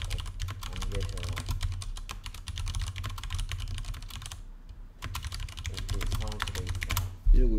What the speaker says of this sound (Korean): 내가 왜 이거를 귀찮게 다 타이핑을 하는지는 알죠?